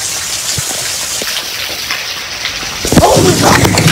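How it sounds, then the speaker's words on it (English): A low rumble of thunder swells during a heavy rainstorm, rising over the steady hiss of pouring rain near the end, with the downpour continuous throughout and no one speaking. "Guys, did you hear that thunder?"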